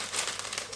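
A paper shopping bag, filled with dates from a package-free shop, crinkles and rustles continuously at close range.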